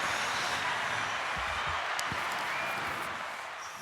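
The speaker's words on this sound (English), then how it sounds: "Is that applause I hear?" Steady applause from a crowd fills the whole stretch as a dense, even wash of clapping that fades slightly toward the end.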